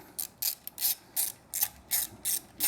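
A socket ratchet wrench tightens a clamp on Triumph motorcycle shock hardware. The pawl gives about eight sharp, close ratcheting bursts in a steady back-and-forth rhythm, with quiet gaps between the strokes.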